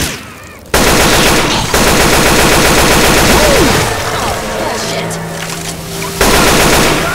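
Sustained automatic gunfire from the zombie shooter Left 4 Dead 2, dense rapid bursts filling the scene almost throughout, with a brief lull near the start and other game sounds mixed in.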